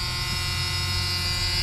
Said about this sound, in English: See your door buzzers.